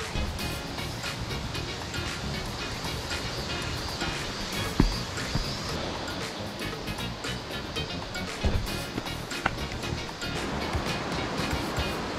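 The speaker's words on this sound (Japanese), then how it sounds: "全然流れがなんか激しくなってきたね。" A rushing mountain stream in Sandankyo gorge, Hiroshima, roars steadily and broadband among rocks, loud and continuous for the whole stretch, with a few faint knocks but no talk.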